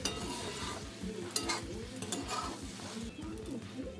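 Okra curry is stirred in a pan after half a spoon of garam masala powder is added. Soft scraping and a low, gentle sizzle continue quietly throughout, with faint clatter from the pan.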